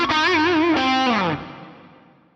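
Electric guitar played through an Axe-Fx modelled Tweed Deluxe amp, a gritty, distorted chord with warbling vibrato that shifts pitch and then rings out and fades, loud and close, no talk.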